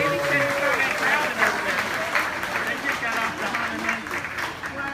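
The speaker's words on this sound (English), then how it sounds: "Let's give our actors a big round of applause." Audience applause at a theme park studio show for the actors, continuous clapping from a crowd filling the space, with some speech mixed in over it.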